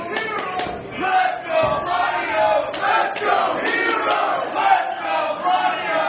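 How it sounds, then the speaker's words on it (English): Wrestling arena crowd roaring and chanting continuously, a dense mass of shouting voices that swells and surges throughout the match. "the crowd doesn't know who to cheer for"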